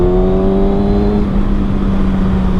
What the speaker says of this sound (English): I need to get away from traffic